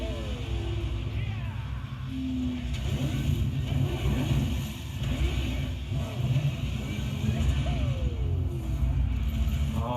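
The Cavalier chainsaw motorcycle in Devil May Cry 5 revs and whines in rising and falling bursts, with synthetic game-style effects and some voice chatter underneath.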